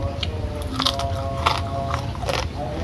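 Crunchy fried catfish in a simple home-cooked pecel lele meal is bitten and chewed close up, giving several loud crisp crunches in a row with no talking.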